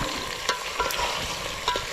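Steady sizzling of chicken frying in hot oil, with a few louder crackles and stirring scrapes over a continuous hiss.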